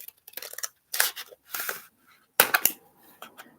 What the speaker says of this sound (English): My scissors are breaking, you hear it?